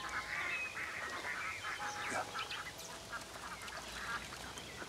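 Ducks quack repeatedly through a busy outdoor scene, with several nasal calls overlapping at moderate distance against steady background noise.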